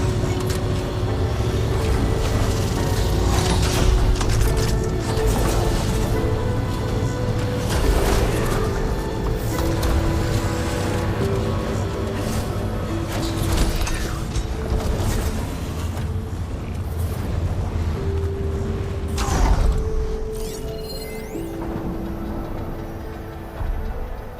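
Mechanical creaking and grinding from a robot machine in Horizon Forbidden West, a steady loud mechanical churn with low rumble, rattles and scattered clanks across the whole stretch, no voices.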